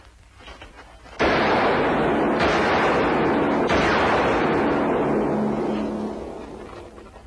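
A loud gunshot in a 1956 Zorro western film sets off a heavy blast that rolls on as a long, sustained roar, with further booming surges before slowly fading.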